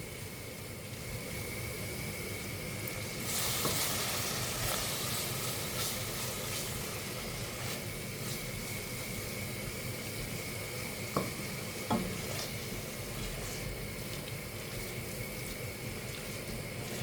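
Vindaloo curry frying in oil in a pan, a constant close hiss and crackle of sizzling with soft stirring scrapes and a few sharper clicks, steady throughout with no talking.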